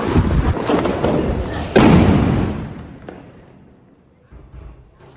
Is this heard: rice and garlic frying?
no